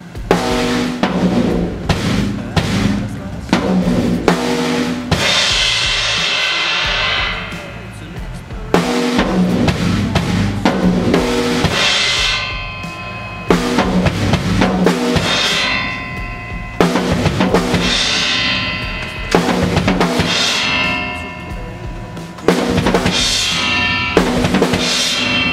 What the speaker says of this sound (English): It starts out with one on the snare, one on the floor tom, two on the kick, one on the floor tom, one on the snare, kick with cymbal.